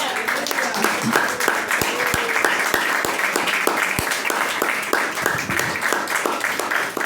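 A church congregation applauding during a sermon, with steady rhythmic clapping from many hands filling the room throughout, loud and close.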